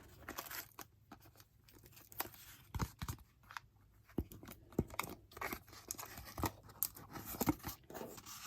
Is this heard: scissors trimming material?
yes